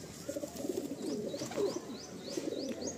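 Madrasi pigeons coo at a loft, soft repeated rising calls in a steady rhythm, close and fairly quiet over low background rustle.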